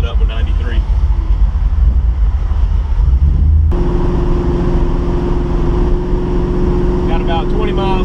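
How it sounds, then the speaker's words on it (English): Steady engine drone from inside a car fitted with a Mopar 727 transmission while driving, with the engine running slightly rough on old gas; after a few seconds a constant hum joins the rumble, and brief voices appear at the start and end. "The engine is running a little funny."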